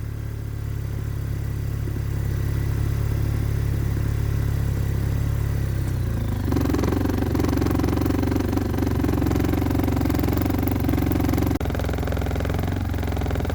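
An Arctic Cat Norseman snowmobile engine, which has a fault, runs loud and close, shifting midway from a low idle to a higher, busier revving drone with mechanical clatter, with no talk.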